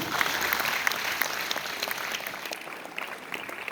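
An audience at a school Shakespeare drama competition final applauds, steady dense clapping from a sizable crowd, moderately distant and without talk.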